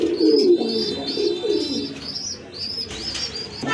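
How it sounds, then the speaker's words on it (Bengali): Red indigo Rajgolla pigeons coo close by in repeated soft, throaty rolling calls, with faint chirps from other birds in the background. "আর এখানে আরেক জোড়া কবুতর আছে,"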